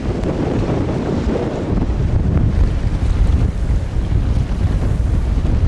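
Sailboat driving through short, choppy water with wind against tide at sea, a loud, constant roar of rushing water and waves against the hull, heavily buffeted by wind on the microphone.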